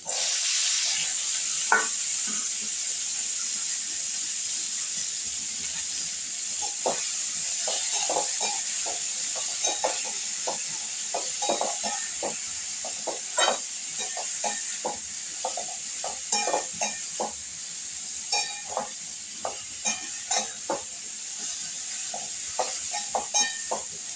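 Prawns frying with cumin, nigella seeds and green and ripe chillies in a home kitchen pan, a steady bright sizzle throughout with frequent crackles and pops and occasional stirring scrapes, close and continuous with no talk.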